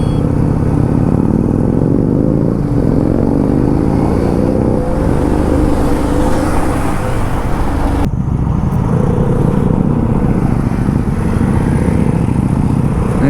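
Constant loud engine drone and road rumble from a motorcycle cruising on a Maharashtra highway between Hyderabad and Aurangabad, with passing traffic adding swells and a brief shift midway; no voices.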